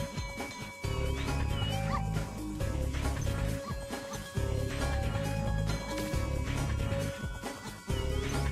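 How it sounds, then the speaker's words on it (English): A cartoon dog in the video game Spyro: Year of the Dragon gives repeated yips and barks over looping game music, with short pauses between bursts. "Am I supposed to be playing catch with this dog?"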